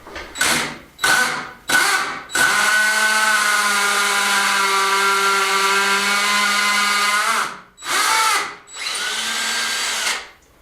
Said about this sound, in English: So I'll get that drilled, see if we can get the first one up.